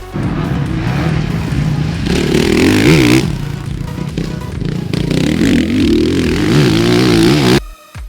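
A 2017 Honda CRF 450 motocross motorcycle engine revs loudly and continuously nearby on a Sardinian track, its pitch rising and falling as the throttle opens and closes, then cutting off sharply near the end.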